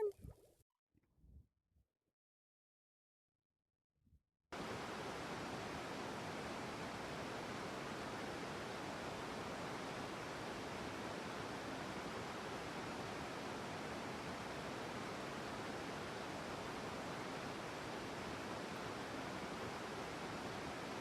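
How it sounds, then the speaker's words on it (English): Waterfall ambience in the fishing game Real VR Fishing, a constant broad rushing roar that starts abruptly after a few seconds of near silence with faint small sounds. "I think the water goes down behind us as well into more waterfalls."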